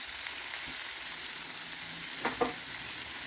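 Chili powder and coriander powder sizzle steadily in oil with a constant hissing crackle, and a couple of faint utensil taps near the end.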